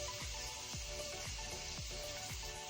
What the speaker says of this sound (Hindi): इस तरीके से हम सारे पराठे फ्राई करेंगे।